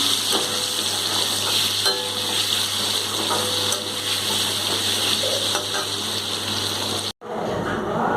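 Paneer frying in hot oil while being stirred, with a continuous sizzle, light scraping stir sounds and a steady low hum in the background. Everything cuts out abruptly near the end, and no one talks.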